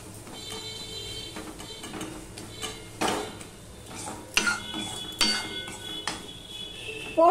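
Poppy seeds frying in oil in a pan while cooking aloo tarkari, heard as intermittent clinks and scrapes of a utensil against the pan over a soft, steady background, with a few sharper metallic knocks.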